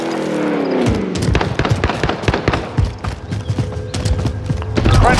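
Rapid gunfire in Call of Duty: Warzone on Rebirth Island, a loud, dense string of sharp shots in quick irregular bursts that continues steadily for several seconds alongside other game sounds.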